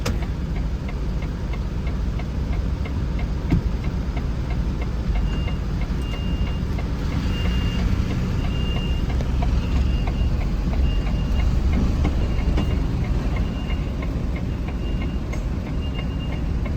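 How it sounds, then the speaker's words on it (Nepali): A reversing truck in Qatar sends out evenly spaced high electronic beeps over a heavy, constant engine rumble, the beeping starting a few seconds in and repeating steadily. "ब्याक गर्दै गएको गाडी गाइस"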